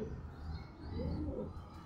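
Pigeons of one bloodline, kept as Madras pigeons, give soft low cooing that swells and fades over a couple of seconds, faint and unaccompanied by voices.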